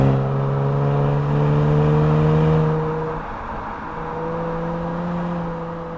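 A 2019 Genesis G70 sports sedan exhaust drones loudly with a steady low rumble, its pitch dropping after a few seconds as the revs fall, then holding at a lower hum.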